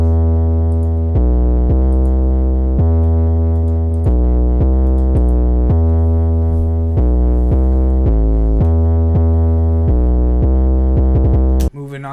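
A blissful opium-type beat part runs through EQ with the highs cut and overdrive, giving a loud, thick, distorted stack of sustained notes that change in steady chopped steps before cutting off near the end.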